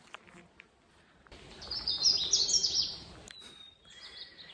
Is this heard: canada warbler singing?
yes